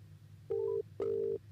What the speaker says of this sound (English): Okay, so the phone is going through.